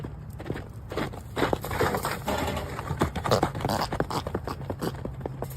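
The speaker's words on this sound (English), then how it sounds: "Have you ever seen a horse that's equipped with turbo?" A horse's hooves clop in a quick, uneven patter of sharp strikes on a hard surface, close by and fairly loud throughout.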